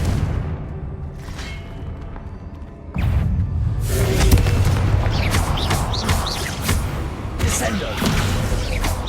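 Spell explosions in the game Hogwarts Legacy, with a burst of fiery booms and crackling thuds that come in suddenly partway through and keep rumbling densely, mixed with game effects.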